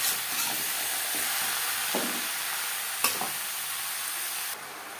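Bottle gourd pieces stirred with salt and turmeric in a pan, a steady close sizzle and hiss with scraping stir strokes and a few light clinks, no talking.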